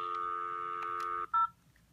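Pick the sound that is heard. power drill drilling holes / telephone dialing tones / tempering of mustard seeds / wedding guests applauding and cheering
telephone dialing tones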